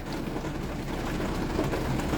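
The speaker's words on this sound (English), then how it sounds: "Yeah, the rain is here" Steady rain falls heavily outdoors as a dense, even wash of patter and hiss, loud and close, with no voice over it.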